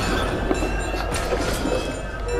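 A train in a video game rolls steadily along its rails, a continuous rumbling clatter with faint clinks, loud and unbroken.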